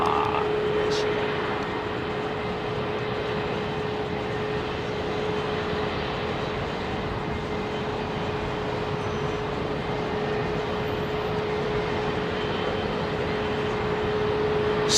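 A Boeing 787 Dreamliner climbing out of London Heathrow, a sustained broad jet rumble with a steady whine tone running through it, holding constant at moderate distance.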